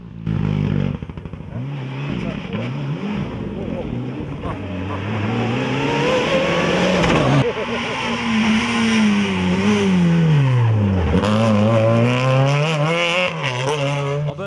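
A rental rally car's engine revs and accelerates at the Rallye de la Famenne 2014, rising and falling in pitch, loud and close, with crowd noise and voices mixed underneath.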